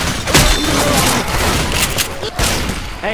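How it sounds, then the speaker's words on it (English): Rapid bursts of gunfire from the zombie shooter Left 4 Dead 2 rattle loudly and nearly nonstop, with a few heavier booming shots mixed in and game voices talking underneath. "Just stop shooting me."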